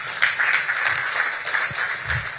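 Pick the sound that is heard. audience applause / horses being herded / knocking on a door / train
audience applause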